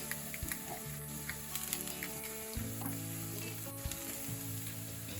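Flour roux for a brown espagnole-style gravy sizzles and fries steadily in a pan with occasional stirring scrapes, a continuous close hiss with no talking.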